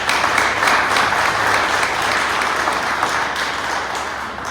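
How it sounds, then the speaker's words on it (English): An audience applauds at a fire department ceremony for a new tower truck, a steady, dense wash of clapping from many hands that continues evenly throughout without spoken words. "They deserve a round of applause."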